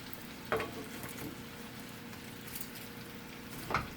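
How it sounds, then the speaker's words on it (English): Cabbage sauteing in a pan over medium to low heat for Southern-style cabbage gives off a continuous gentle sizzle, with two clear utensil clanks near the start and end. "So we're going to put in our cabbage, and we're going to let this saute for a minute or two."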